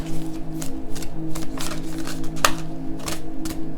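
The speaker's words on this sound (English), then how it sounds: "So I'm going to go ahead and pull a card." Tarot cards rustle and flick in a quick run of crisp shuffling snaps, one sharper click standing out midway, close and fairly loud with no talking.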